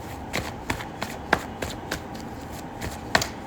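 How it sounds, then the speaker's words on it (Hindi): Tarot cards are shuffled and drawn by hand in a close, quiet room, giving quick papery flicks and soft slaps in an irregular rapid rhythm. "चलो यहाँ पर मैं कुछ और कार्ड्स भी निकालती हूँ"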